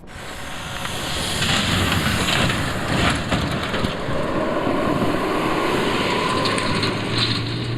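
Engine of a heavy Ukrainian military drone running steadily, a broad continuous roar with a high whine, close and loud, holding an even level throughout with no talk.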